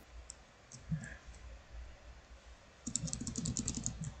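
Rapid mouse clicks while playing a Minecraft-style server game, a sparse scattering of light clicks giving way to a dense, quick burst of clicking near the end, close and fairly loud.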